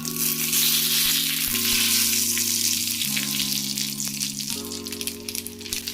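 Cumin seeds, two dried red chillies and a bay leaf crackle in hot oil as tempering, a bright, steady sizzle held close throughout, with a low humming tone shifting pitch underneath.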